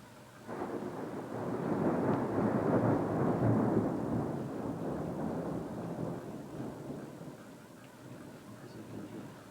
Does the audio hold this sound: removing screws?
no